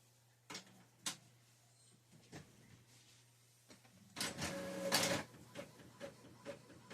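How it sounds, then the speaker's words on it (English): A quiet printer clicks and ticks, then whirs louder for a moment as paper feeds through, in a hushed room. "Hear my printer going?"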